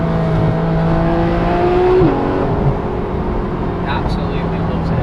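A Porsche GT3 RS exhaust drones steadily close by, its engine note holding then dipping in pitch as revs shift, with voices talking over it.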